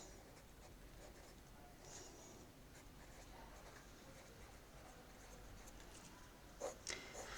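A pen scratches across paper as someone writes sideways, a steady faint scribbling texture throughout with a couple of slightly louder taps near the end, no talking.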